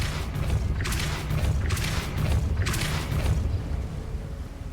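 Depulso spell casting in the Hogwarts Legacy video game, heard as three quick whooshing bursts roughly a second apart over a steady low rumble, moderately loud and close.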